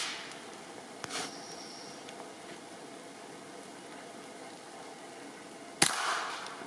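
A single rifle shot cracks out sharply during a night possum hunt in New Zealand, a brief loud bang near the end of an otherwise quiet stretch of low outdoor background, with a smaller knock earlier.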